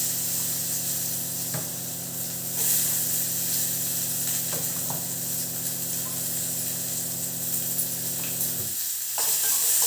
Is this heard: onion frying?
yes